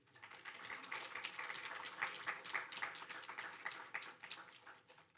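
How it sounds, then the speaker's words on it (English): A round of applause for faculty mentors at a graduate student mentoring award ceremony: a crowd claps steadily for about five seconds at moderate distance, swelling slightly and then easing off. "Faculty, or might I say mentors, give yourself a round of applause."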